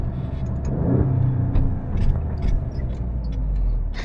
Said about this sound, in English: And just listen to those downshifts.